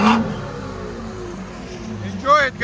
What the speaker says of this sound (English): 540i BMW. Fully straight pipe with downpipes.